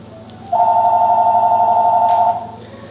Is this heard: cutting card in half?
no